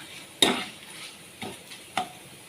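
Dried chilies and garlic fry in a pan with a faint steady sizzle, broken by three distinct stirring scrapes of a utensil, the first one loudest.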